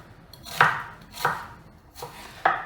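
A knife chops an onion on a cutting board in four distinct, evenly spaced crisp thuds, close and clear with no talk.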